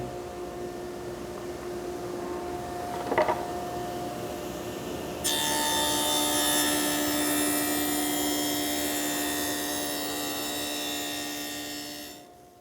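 A table saw cutting rabbets in wooden boards: the blade whines at a steady idle, gives a brief knock, then bites into the wood with a louder, bright rasping cut that holds for several seconds before spinning down.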